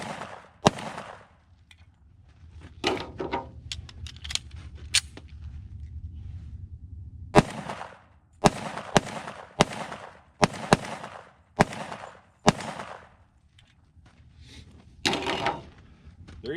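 Rapid, sharp gunshots from a Tisas 1911 Night Stalker 10mm pistol firing Blazer brass ammunition, loud and close, in irregular bursts of single reports separated by brief pauses.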